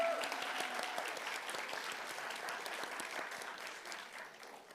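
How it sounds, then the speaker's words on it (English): A swim and dive team gives a big round of applause at an end-of-season school banquet: dense, steady clapping from many hands that fills the room and fades slightly toward the end. "So big team clap."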